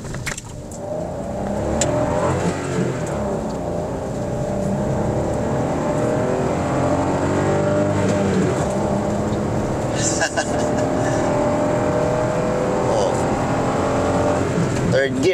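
A 2022 Toyota Raize 1.2 with manual gearbox accelerates hard at wide open throttle in third gear, engine droning steadily loud and climbing toward 5,000 rpm, heard continuously from inside the cabin.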